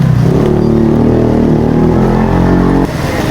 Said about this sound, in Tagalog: Eto, magdadaan yung motor